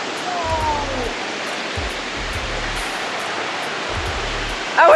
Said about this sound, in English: it's some kind of small waterfall